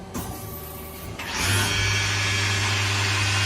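A 2022 Doosan Lynx 2100LYA CNC lathe, running with its door open, drills a part. A low machine hum swells into a loud, steady whine with a droning tone that holds evenly to the end.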